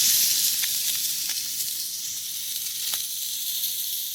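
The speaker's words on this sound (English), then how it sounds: "Frying up a little bit of trout to go with some pasta primavera." Trout fillet frying in a pan at a lakeside camp in alpine wilderness, giving a steady, close, bright sizzle and hiss with a few small pops, no voices.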